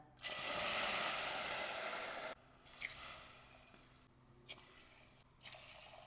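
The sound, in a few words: water being poured into pot for sago dessert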